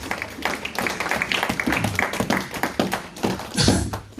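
Congregation clapping at a church service led by Reverend Godeffroid Kwambakwayesu, a dense run of hand claps and taps close by, steady through the stretch and swelling near the end.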